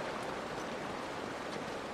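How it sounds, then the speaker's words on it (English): A waterfall in the Uncharted: Drake's Fortune video game gives a continuous, even rushing roar of falling water, steady and moderately loud for the whole stretch with no voices. "Okay, only hear the waterfall."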